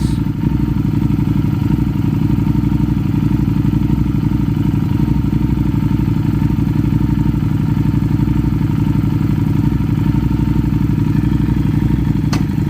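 A Harley-Davidson motorcycle engine, American-built, idles with a steady, loud, deep throb and rhythmic low pulsing that continues unbroken from start to end, with no voices.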